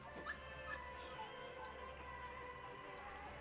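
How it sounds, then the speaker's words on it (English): A dog whimpers in a PlayStation 2 horror game ending, thin whining tones rising and falling several times over a steady low hum and faint insect-like chirping, with no talk. "Turns out a dog was controlling the scary city the whole fucking time."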